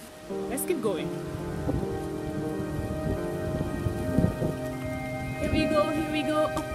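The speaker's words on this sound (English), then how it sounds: "It's beginning to rain" Rain falls on a forest hiking trail along the Waitukubuli National Trail in Dominica, a continuous close patter of drops on leaves and ground, with some tonal sounds rising over it now and then.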